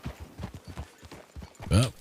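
Horse hooves clip-clop in a steady, even rhythm at moderate distance, with a sudden louder, brief horse vocal burst near the end and no clear talking.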